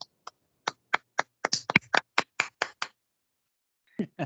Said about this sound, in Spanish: los invito a darle un fuerte aplauso al ingeniero Diego Calderón por este evento